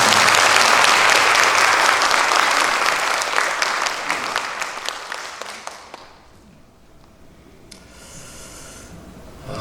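Loud crowd clapping at a church evangelism rally rolls on for several seconds, thins into scattered individual claps, then fades to near silence with a faint hiss.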